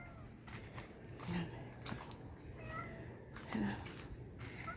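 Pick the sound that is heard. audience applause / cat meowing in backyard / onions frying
cat meowing in backyard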